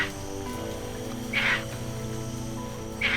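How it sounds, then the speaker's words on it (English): The dominant male of a primate troop crossing a river gives two short, piercing alarm shrieks about a second and a half apart, ringing out over a steady musical background. "the dominant male shrieks a warning"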